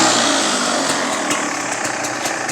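A Beta 300RR dirt bike engine fitted with a 36 mm Lectron carburetor idles steadily and loudly up close, with an even two-stroke burble and no talking.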